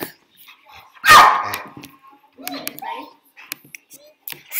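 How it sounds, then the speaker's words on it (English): A pet dog barks once loudly and close, followed by a few faint yips, with a person talking around it indoors. "That's my, you know, dog."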